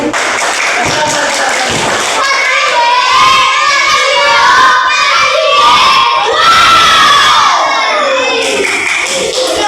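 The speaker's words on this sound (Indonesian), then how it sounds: "Kasih tepuk tangan." A fifth-grade primary school class applauds and cheers loudly up close. Excited children shout and whoop over scattered clapping and thumps, and the noise stays busy and energetic from start to finish.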